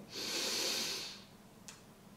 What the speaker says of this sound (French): Prenez quelques grandes respirations.